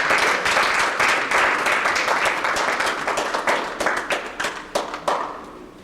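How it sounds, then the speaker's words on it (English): Loud applause from a crowd at a national convention in Houston, Texas, full and dense at first, then thinning into scattered individual claps toward the end. "Let's give him a very big applause."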